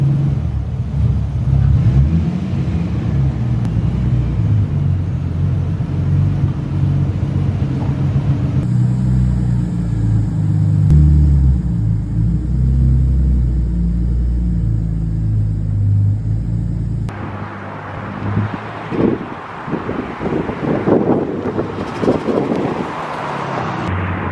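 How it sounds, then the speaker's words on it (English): A car on a test drive after installing xenon HID headlight bulbs gives a loud, continuous low engine and road rumble with wind noise inside the cabin, the tone changing partway through as speed shifts. "take it out for a test drive"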